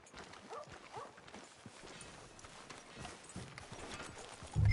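Horse hooves clip-clop in Red Dead Redemption 2, a steady, moderately close trot heard alone with no talk.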